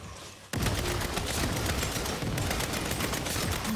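Sustained automatic gunfire emptying a full magazine in the Saints Row video game, a dense rapid burst starting abruptly and continuing loud and unbroken for several seconds.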